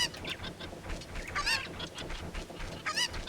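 A chicken from Zelda: Ocarina of Time gives a string of squawking, honking clucks, loud and close, repeating in quick bursts with no talk.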